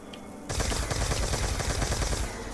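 A video game gun fires in a rapid sustained automatic burst, loud and close, a dense rattle of shots that runs for about two seconds after a brief quiet lead-in.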